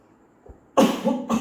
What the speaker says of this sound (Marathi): बघा, आता मला खोकला आला